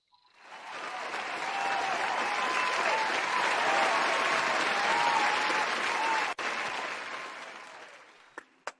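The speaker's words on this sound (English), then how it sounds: "Let's once again have a round of applause for all of them." Sustained audience applause at an agricultural seed awards ceremony, swelling in within the first second and holding steady and full for several seconds before cutting off abruptly near the end.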